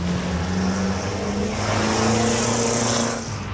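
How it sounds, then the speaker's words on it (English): A loud, deep truck engine with a straight pipe exhaust rumbles and drones with a raw, throaty note, swelling slightly in revs before settling, close by. "I just want you to hear it before I tell you which exhaust system we've gone with."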